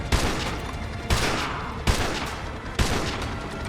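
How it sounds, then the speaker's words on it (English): Sniper rifle shots ring out against castle guards in Call of Duty: Modern Warfare 2, four sharp loud cracks spaced about a second apart, each trailing into a long echoing decay. "We snipe a bunch of dudes before they can get the guns operational"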